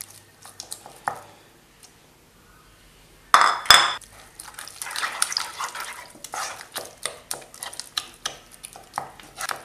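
A spoon works egg into a thick dough in a bowl, giving faint scattered clinks at first, then a sharp knock and a run of soft, sticky squelching strokes close up.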